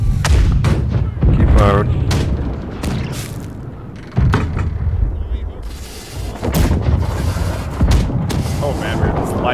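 Ship cannons in the naval battle game Blackwake fire in a loud, near-continuous barrage of heavy booms, with crew voices shouting over the gunfire.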